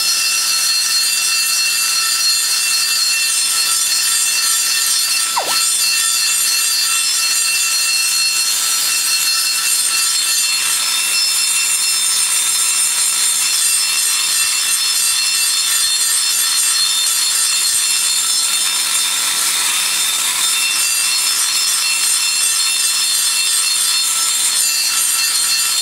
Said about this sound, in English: I'm not cutting the aluminum, I'm cutting the actual iron seat